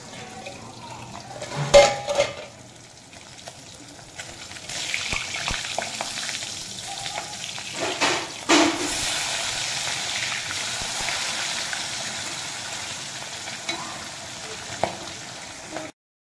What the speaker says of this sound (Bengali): মাছ আমার ভাজা হয়ে গেছে